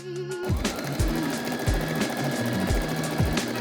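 A sewing machine stitches the front button placket of a summer jumpsuit in short repeated bursts, its motor whirring up and pausing between runs, close and loud with no talk.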